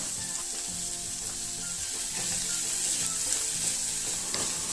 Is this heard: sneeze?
no